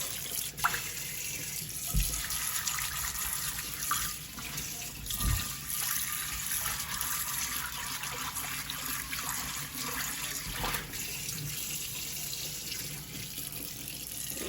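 Hot water runs from a kitchen tap to rinse a cast iron skillet used for cooking sausage, a steady close splashing rush in the sink lasting throughout, broken by a few brief knocks as the pan shifts.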